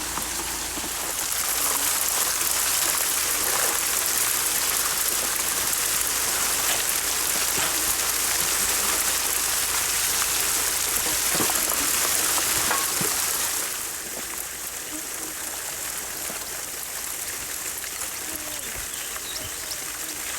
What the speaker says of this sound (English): Well, finally starting to rain now